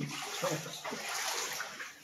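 Floodwater from heavy rain rushes and pours steadily into a house nearby, a continuous splashing flow that holds at an even level for the whole couple of seconds.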